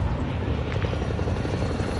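A helicopter in Call of Duty Warzone thrums loudly and continuously, a dense rotor roar filling the whole moment without pause.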